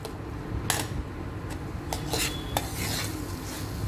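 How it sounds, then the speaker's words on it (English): Rice sautéing in masala in a pan over a medium flame, a soft low sizzle under intermittent scraping and clinking of a spoon against the pan, several quick stirring strokes at close range. "let the rice saute for around 1 minute"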